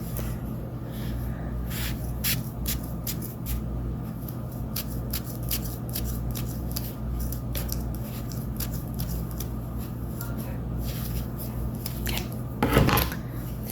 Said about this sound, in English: I'm going to cut this cotton ball because I did not cut all of them.